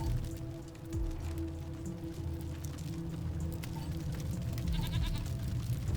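Goats bleat in Wasteland 3 near a goat pen, a few calls rising over a steady wash of ambient game noise and soft rain-like texture.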